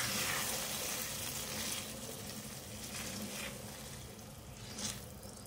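Cooked chana dal being stirred into sizzling masala in a pan, a continuous frying hiss with wet scraping and gentle stirring strokes, close and steady, no voices.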